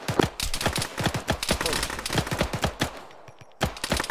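Rapid video game gunfire from a military vehicle squad battle: dense bursts of loud close shots in quick rhythm, a brief lull near the end before firing resumes.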